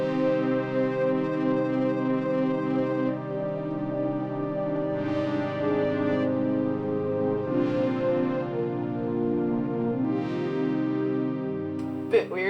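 Layered synth pad in Ableton combining one sound with a synthetic flute patch in different ranges, sustained chords with breathy swells every few seconds, steady and alone.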